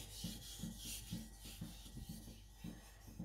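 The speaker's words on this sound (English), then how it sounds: "Now, just putting in the micro bevel on." Niolox nakiri knife getting a micro bevel on a sharpening stone, soft rhythmic strokes repeating about every half second, quiet and close, with no talk.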